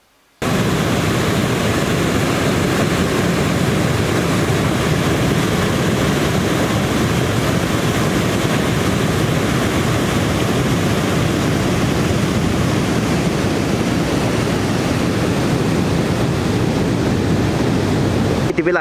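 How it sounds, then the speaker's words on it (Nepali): The flooded Bagmati River, at its confluence with the Manohara River, rushes past in a loud, unbroken roar of churning water that holds steady the whole time. "हामीले तपाईँलाई बागमती खोलाको बाढी देखाइरहेका छौँ"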